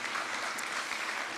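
A church congregation claps together in a dense, continuous wash of applause that stays steady and fairly loud for its short length, with no voices standing out.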